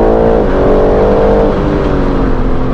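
BMW M car engine braking and then accelerating, a loud continuous engine drone heard from close inside the car, with pitch dipping under braking and rising again as it pulls away.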